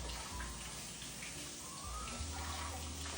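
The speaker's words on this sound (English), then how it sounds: "rinse the rice until the water runs clear" Running water splashes and trickles steadily, faint and close, as rice is rinsed in a bowl under a tap.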